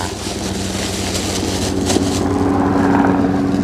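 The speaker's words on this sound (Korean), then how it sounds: "비행기가 어딜 가는 거야?" A propeller airplane passes overhead outdoors, a steady loud drone that swells slightly as it nears, with no voices.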